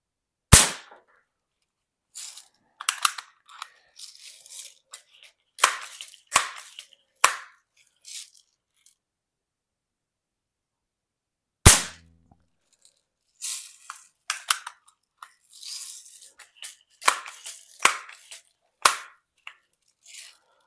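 A pump BB gun fired at a backstop target from about 30 feet, pumped three times per shot, giving a few sharp isolated cracks spread apart, followed by quieter clicks and handling rattles between shots.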